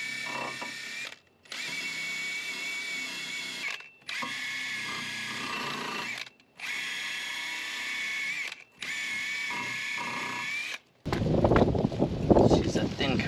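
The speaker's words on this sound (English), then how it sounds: "Now I'm going to clean up the hub surface. Just use a wire brush." Rotary wire brush scrubbing the rear hub surface of a 2013 Honda Civic during a brake job, a steady whirring grind in four long bursts separated by brief pauses, then a rougher, noisier scraping stretch at the end.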